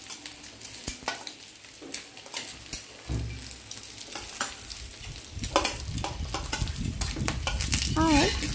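Chopped onion stir-fried in a pan for Maggi noodles, with spatula scrapes and clicks over a sizzle that swells louder as the onion goes in, close by.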